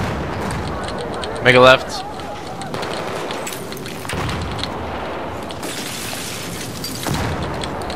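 Gunfire and a blast crack out in Battlefield 4 during a 5v5 Defuse match, one sharp burst standing out early amid scattered shots, with players talking over the action.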